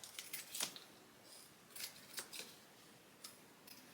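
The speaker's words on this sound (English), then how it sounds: "You can trim your corners diagonally just to get rid of some of the bulk" Scissors snip diagonally across the sewn corners of fabric for a small sewing project, producing a few quiet, crisp cuts spaced irregularly with soft pauses between them.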